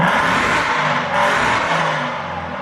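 Straight-piped Aston Martin V8 Vantage revving hard and loud up close, a brief raw, rasping engine roar that rises and falls.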